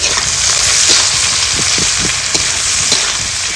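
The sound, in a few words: chopped onions frying in meat fat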